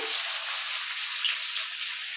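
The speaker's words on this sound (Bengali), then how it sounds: "এখন আমি কড়াইতে তেল বসিয়ে দিয়েছি এই যে প্রথমে আমি পেঁয়াজ কুচি দিচ্ছি" Chopped onions hit hot oil in a kadai, giving a loud, steady, close sizzle that holds evenly throughout with no voices.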